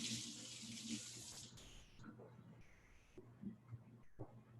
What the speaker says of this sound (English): quick rinse of the hands